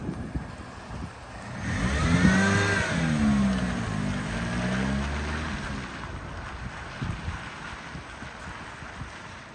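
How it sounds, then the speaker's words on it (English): A Mini's engine runs with a whining power steering pump noise that rises and falls over a few seconds, with wind buffeting the microphone. "The old steering pumps got a familiar noise on them Minis."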